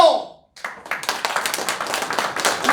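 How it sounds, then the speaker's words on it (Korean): An audience at a Korean community lecture on current affairs in Washington, DC, bursts into dense, sustained clapping right after a short spoken phrase and a brief pause, and the applause continues steadily to the end. "박수를 좀 치라고"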